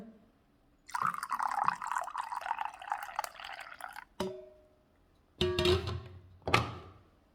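Boiled coffee is poured, giving a sustained splashing stream of liquid, then a clunk and two shorter pours with drips, close and moderately loud, with no talking over it.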